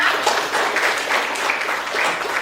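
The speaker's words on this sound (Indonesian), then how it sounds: "Tepuk tangan dulu untuk Mbak Viana" Applause for Mbak Viana during a university teacher-training session, a soft even patter of clapping from a small group, steady and moderately near with no talk over it.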